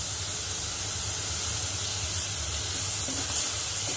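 Tomato puree made from two medium tomatoes, with salt, sizzling in a hot pan while cooking a ratalu (purple yam) curry: a steady, close broadband hiss and crackle, even and unbroken throughout, with no voices.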